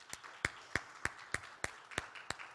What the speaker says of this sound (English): I'd just like to ask that everyone give them a big round of applause